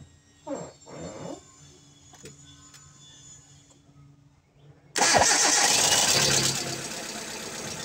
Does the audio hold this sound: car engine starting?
yes